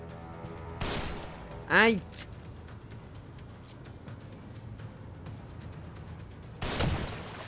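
Two sharp gunshots in the video game The Evil Within, a few seconds apart over a steady low background, with a brief voice exclamation between them.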